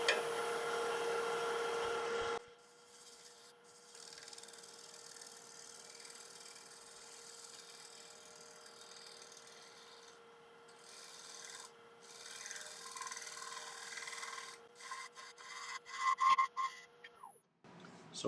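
A homemade turning tool cuts punky, cracked hornbeam on a wood lathe, opening with a loud rasping cut, then a quieter steady hum and light scraping with intermittent bursts of tool contact.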